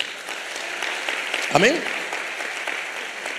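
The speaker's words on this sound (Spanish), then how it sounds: "Un aplauso a Jesús." A church congregation applauds during a Spanish-language sermon, a broad steady clatter of hands running throughout at moderate level while a voice briefly speaks over it.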